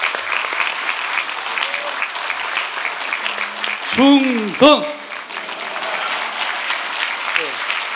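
Steady audience applause at a Korean party forum as Seoul Mayor Park Won-soon is welcomed, filling the room throughout, with someone briefly shouting a greeting mid-way over the clapping.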